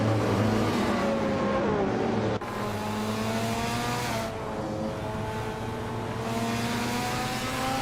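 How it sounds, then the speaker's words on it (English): A 2018 Ferrari 488 GTE race car engine in a racing video game drones loudly and steadily, its pitch climbing through repeated gear shifts with a brief cut as it changes gear. "Nico Broadcast is driving a 2018 Ferrari 488 GTE"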